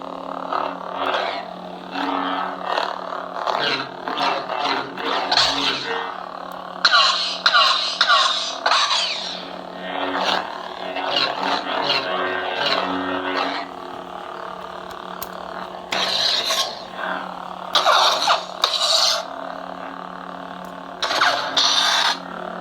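Star Killer 2.0 lightsaber toy from a 2020 unboxing plays its electronic sound effects loudly and up close: bursts of buzzing hum, crackling swings, clashes and snippets of sound, with brief pauses between effects.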